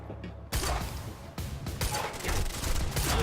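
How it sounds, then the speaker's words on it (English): Gunfire in Quantum Break, a loud rapid burst starting abruptly after a short quiet moment and continuing in dense, crackling volleys. "The shooting actually feels really competent in this game."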